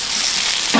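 Vegetables sizzle and fry in hot oil in a large pot for a 4 kg village-style veg biryani, giving a steady close hiss with no talk that swells briefly louder near the end.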